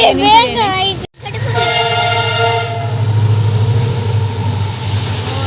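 A train rumbles past close by, its horn sounding in long tones over a heavy low roar; a brief high voice is heard at the very start.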